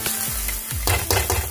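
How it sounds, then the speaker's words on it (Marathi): Onion, garlic and ginger frying in a pan for manchurian, a close crackling sizzle with brief stirring scrapes and a couple of louder bursts, no voices. "मित्रांनो तुम्ही बघू शकता आपण जे टाकण्याचे साहित्य त्यामध्ये मस्तपैकी फ्राय होत आहे."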